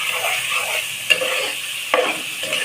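Spices with dried and green chillies and a little chilli powder are stirred in a hot frying pan, giving a steady close sizzle broken by two sharp spoon scrapes against the pan, with no talking.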